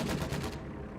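A 240mm artillery barrage shell explodes in a war video game as a muffled, dull thump with a short rumbling tail, brief and fairly faint.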